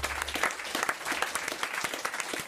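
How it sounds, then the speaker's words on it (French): A television studio audience applauds steadily, many hands clapping in a dense, even patter that holds at a moderate level throughout. "on vous en remercie et on vous applaudit"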